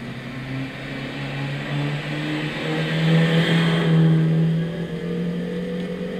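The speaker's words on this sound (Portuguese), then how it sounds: "Deixar um ronquinho pra vocês." A Mini Cooper Countryman 1.6 16V THP turbo engine revs in Gran Turismo 6 with a steady, muted drone that swells and eases, heard alone without talk.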